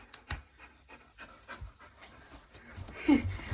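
A dog pants close by in quick, soft breaths, faint and rhythmic, with a bit of rustling and a brief whimpering sound near the end.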